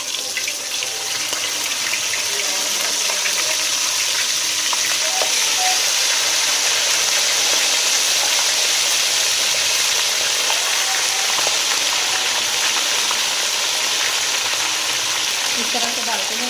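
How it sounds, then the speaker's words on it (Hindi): Chicken pakoras frying in hot oil, a steady, loud, close sizzle that holds unbroken throughout, with faint bubbling and no talk. "तो ऑयल हमारा गर्म हो चुका है। तो अब हमने एक एक करके इसमें फ्राई करना है अपने"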